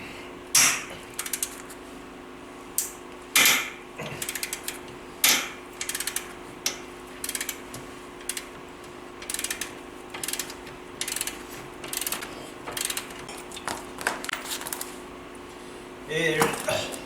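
A ratchet wrench clicks in repeated short bursts while 15 mm A-arm bolts are loosened on a Polaris RZR 800, close metallic ratcheting with pauses between strokes and brief workshop clanks.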